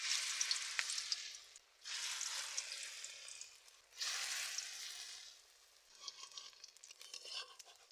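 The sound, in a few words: drumstick leaf fritters frying in oil in a wok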